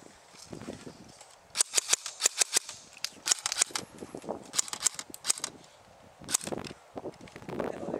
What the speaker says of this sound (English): I think they're shooting at me, Slade.